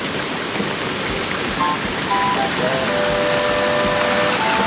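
Small farm creek swollen by flooding after heavy rain, a steady broadband wash of rushing water heard up close and continuous throughout, with faint thin tones drifting over it.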